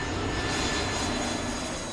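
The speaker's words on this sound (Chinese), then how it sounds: "很好，坐飞机去。" A steady, broadband roar of an airplane engine, loud and unbroken for a couple of seconds, with no voices.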